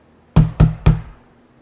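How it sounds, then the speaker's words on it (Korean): Three sharp knocks rap on a wooden door in quick, even succession, close and loud against near silence. "그때 어디선가 문을 두드리는 소리가 났어요."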